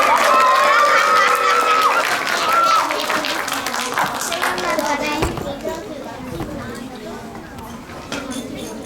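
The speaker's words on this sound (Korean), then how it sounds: "자, 인사해주세요. 박수." Elementary students at a school fair in a classroom or hall clap together, loud and lively, with children's voices and chatter mixed in before the clapping fades into a murmur.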